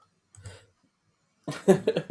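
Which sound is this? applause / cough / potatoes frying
cough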